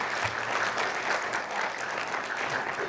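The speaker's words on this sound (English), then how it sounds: "That deserves applause itself" Audience at a panel session claps together in a steady, dense round of applause that fills the room evenly throughout, fairly close and sustained with no voices on top.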